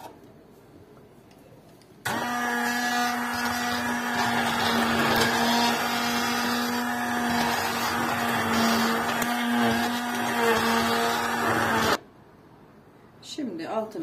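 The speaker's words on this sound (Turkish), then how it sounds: "Ondan sonra güzelce blender'ı da çekeceğim." A kitchen blender purees a chicken and vegetable soup, whirring steadily at high speed for about ten seconds, loud and close, starting and stopping abruptly.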